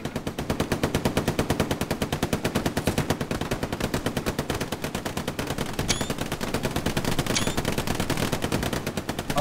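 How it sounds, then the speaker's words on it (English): Several light machine guns fire in sustained, rapid automatic bursts in the World War II shooter Hell Let Loose, a dense, unbroken rattle of gunfire lasting the whole stretch with a few sharper cracks mixed in. "Yeah, we have three LMGs lighting that up"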